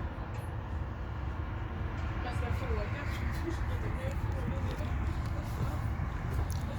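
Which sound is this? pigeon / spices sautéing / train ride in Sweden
train ride in Sweden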